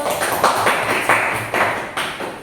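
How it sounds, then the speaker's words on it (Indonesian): Classroom clapping for a student group after their presentation, a handful of rhythmic, fairly loud claps at a steady pace, close to the recorder in a small room. "Tepuk tangan dulu."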